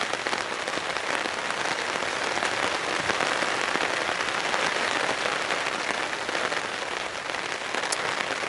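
Rain falling on a tent at a garden camp, a dense, steady patter of drops close overhead, constant and even throughout with no voices.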